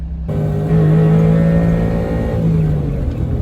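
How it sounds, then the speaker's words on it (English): A Honda Beat's small engine revs up as the car pulls away on a test drive, a steady close droning hum that rises briefly in pitch and holds. "So I will now take it out for a test drive and I will go over how the car feels."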